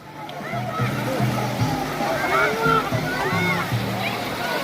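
Ocean waves splashing and sloshing continuously at a shore, with people talking and a voice over the churning waves.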